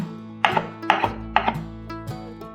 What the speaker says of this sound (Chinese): 准备4朵鲜香菇，把鲜香菇先切条状